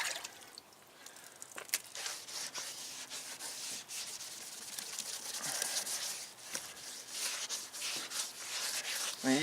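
Cloth rubbing toothpaste over a car's plastic headlight lens, a continuous close scratchy rubbing with back-and-forth strokes and a few sharper scuffs, fairly quiet throughout.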